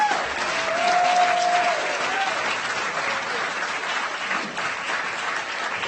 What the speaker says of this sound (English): So please give Leslie a giant round of applause for this.